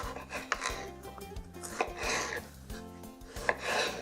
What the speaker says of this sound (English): Then we're going to quarter the tomato.